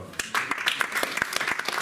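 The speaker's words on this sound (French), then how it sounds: "vous pouvez applaudir" Sparse audience clapping at a maker meetup talk, a small group producing distinct, uneven claps close by for a couple of seconds.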